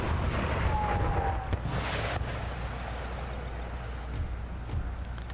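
Cannon fire from two guns in a Gettysburg battle video game at Little Round Top, with a loud booming blast and a rumbling, crackling aftermath that fades into a steady low battlefield drone.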